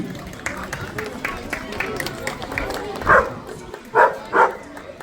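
Amid crowd murmur and talking at a dog show contest at a Capfun campsite, a dog barks three times near the end, sharp and fairly close, after softer yips and whines.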